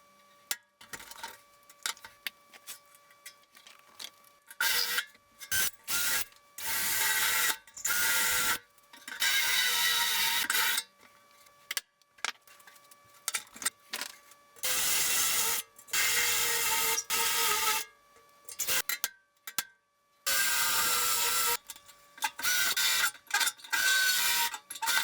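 Drill bit cutting out spot welds on a Frogeye Sprite seat panel, repeated bursts of grinding, rasping metal separated by short pauses, close and fairly loud, with no voices.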